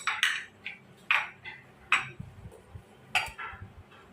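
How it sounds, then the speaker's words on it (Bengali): Egg yolks being whisked with custard ingredients in a bowl, a few separate bursts of clinking and scraping from the utensil against the dish, close and moderately loud, with no talking. "এখানে তিনটা ডিমের কুসুম আগে এই উপকরণগুলো সুন্দরভাবে মাখিয়ে নিতে হবে"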